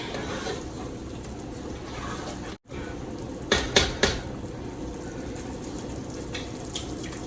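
A spoon stirs Nigerian bean porridge in a metal pot, giving a few quick scraping clinks near the middle over a steady background hiss, with no talking.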